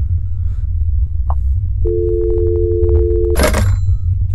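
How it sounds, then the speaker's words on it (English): A video game phone call goes unanswered: a steady electronic ringing tone drones for about a second and a half, then a loud burst of clicking and static cuts it off. "nobody picked up the phone"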